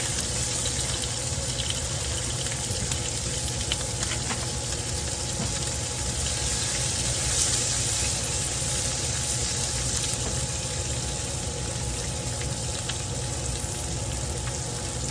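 Napa cabbage goes into a hot cooking pan for a budget weeknight dinner, giving a steady, dense sizzle and hiss of frying that stays loud and even throughout, with no talking.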